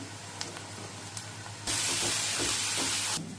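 Ginger garlic paste fries in a pan with turmeric, starting as a low background simmer, then breaking into a loud, steady hiss and sizzle that holds for over a second before dropping back. There is no talking.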